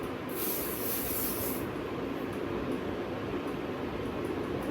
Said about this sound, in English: You can just spray it all over your face even when you are wearing some makeup